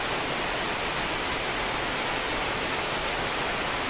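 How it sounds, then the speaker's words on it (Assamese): Heavy rain pours down in a steady, dense roar of broadband hiss, loud and unbroken for the whole stretch, with no voices over it. "এই চাওক কিমান টানকৈ বৰষুণ আহি গ'ল"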